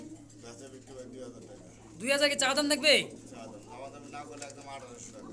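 A pigeon from a breeding pair of fancy pigeons gives a short burst of cooing, close by, between stretches of someone talking.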